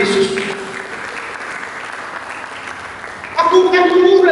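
A church congregation applauds for Jesus during a sermon, a steady wash of clapping that gives way to loud tonal music or singing in the final second.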